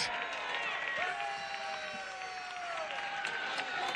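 Baseball crowd at a college game cheering and applauding a called strike, a steady broad roar of clapping and shouts with a few whistles rising and falling throughout, moderately loud and continuous.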